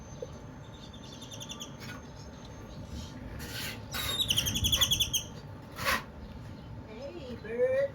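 Small birds chirp and tweet outdoors near a patio in bursts of rapid high notes, fairly close, with rustling handling noise and a person speaking briefly.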